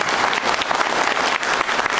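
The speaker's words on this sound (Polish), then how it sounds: "Brawa dla pana posła za wspaniałe wejście." Audience of about two hundred people applauding a member of parliament at a public meeting in Staszów, steady dense clapping throughout, loud and close, with no talk over it.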